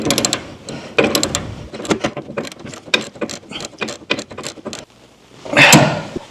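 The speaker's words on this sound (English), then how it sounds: "I'm just holding the nut on the other side and tightening this with a ratchet." A ratchet tightening a nut on the brake line splitter block of a Scout being restored, with rapid close clicking strokes in uneven bursts, a short pause, then a final rattle of tool handling.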